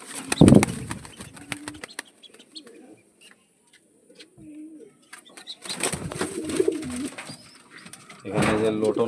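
Heavy boot pigeons cooing low and throaty, with bursts of wing flapping at the start and end, close by, with someone speaking over parts of it.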